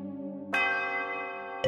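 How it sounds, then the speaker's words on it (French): A cartoon castle clock's bell strikes twice, ringing out with a long sustained tone that hangs between the strokes. "au 12e coup de cloche, la vieille horloge du château se remit en route."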